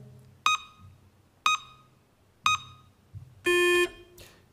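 Time-warning signal in a radio presidential debate studio: three short sharp beeps about a second apart, then a longer louder tone, each ringing clearly over near silence.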